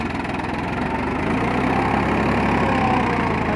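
A Farmtrac 50 tractor pulling a 9-tine cultivator labours under load, its diesel engine giving a loud, continuous rough throb with a rapid knocking pulse that swells slightly partway through, close by and with no voices.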